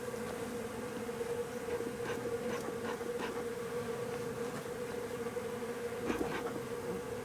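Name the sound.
honey bees buzzing around a hive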